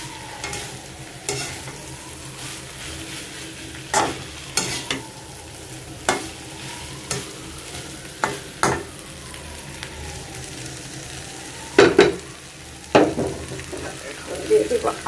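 A spatula stirs rohu fish roe and potatoes in a sizzling pan with repeated scraping strokes every second or so over a constant frying hiss.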